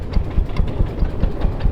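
A 120-year-old car's single-cylinder 12 horsepower engine with a 6.5 inch bore, running with a loud, low, rhythmic chugging thump of steady beats, close up and alone.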